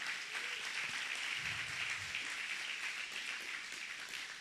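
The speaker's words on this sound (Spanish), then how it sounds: "Un aplauso a nuestro Dios." A church congregation applauds, producing a steady, even wash of many hands clapping together that carries on throughout at a moderate, fairly distant level.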